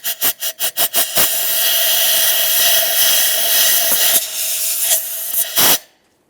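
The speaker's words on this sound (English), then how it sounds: "Let's clean this area. We'll use some compressed air." Compressed air blasts around the ignition coil area on the engine of a 2015-2020 Ford F-150 3.5L V6: a series of short, loud hissing bursts, then a long steady blast with brief breaks before it cuts off into silence.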